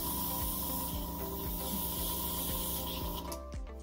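A makeup airbrush sprays a steady, close hiss of foundation onto a face for haunted house makeup, with a faint compressor hum under it and small ticks as the airflow shifts.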